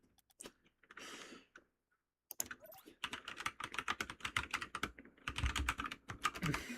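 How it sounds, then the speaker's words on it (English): Computer keyboard typing during an esports playoff cast: a quiet burst of clicks, a brief pause, then fast, steady clacking of keys close by. "instead, you hear the clackety of the keyboard"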